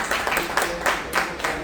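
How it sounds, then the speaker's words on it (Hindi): Audience applause for a poet at a Hindi poetry gathering, a brief burst of crowd clapping with a loose, pulsing rhythm, heard at moderate volume. "जरा तालियां चाहूँगा ग्रोवर साहब के लिए।"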